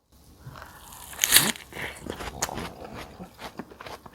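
Someone bites into a bread-free frozen-tofu sandwich with apple and chili sauce, one sharp crunchy bite followed by soft, close chewing sounds that gradually fade.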